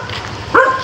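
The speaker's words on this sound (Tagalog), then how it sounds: "Huwag ka matakot sa aso." A single sharp dog bark rings out close by at a hospital entrance in the Philippines, rising briefly over low street ambience and a faint murmur of voices.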